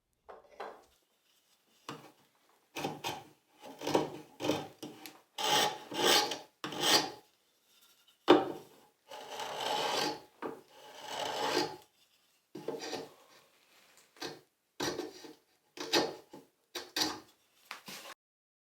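A knife scribes marking-gauge lines on wood for hand-cut tenons, making a string of short, close scraping strokes in irregular bursts with brief pauses between them.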